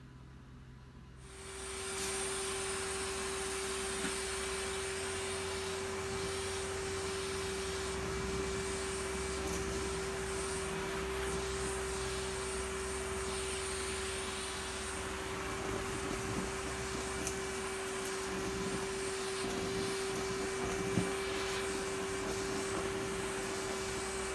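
A Henry vacuum cleaner picks up a large mess of pet fur, starting after a brief quiet moment and then droning steadily with a constant whine and a strong hum, running alone.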